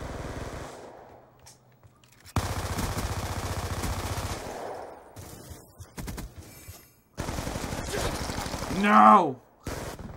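Pistol gunfire in the video game Call of Duty Black Ops II comes in bursts of rapid shots, loud and close. A player shouts and talks between the volleys.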